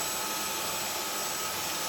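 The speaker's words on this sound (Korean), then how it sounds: "청소 후 청소기를 틀어보면" A cordless stick vacuum cleaner whirs at a steady, loud, high-pitched pitch throughout, running alone at close range with no voices.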